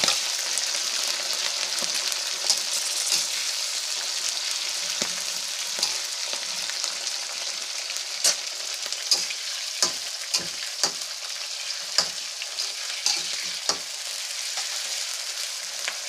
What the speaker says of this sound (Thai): ทอดให้กรอบๆนะครับ